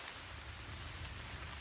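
Steady rain falls on a hiking trail along the Appalachian Trail near Shenandoah National Park, a dense, even hiss of drops all around with no breaks and no voices.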